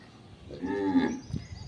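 A cow in a farm pen gives a single drawn-out moo that swells and fades over about a second, moderately loud over faint outdoor background noise, with no talking.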